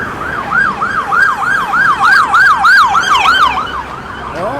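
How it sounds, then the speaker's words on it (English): Police car siren wailing on a busy rush-hour main street, a loud rising-and-falling electronic tone repeating about once per second, close by and passing, over traffic rumble with no talk. "Oh, that's a different police car."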